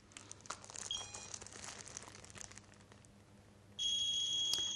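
Crinkly handling noises fade, then a Radex radiation dosimeter measuring a contaminated soil sample gives a sharp continuous electronic beep near the end, loud and close.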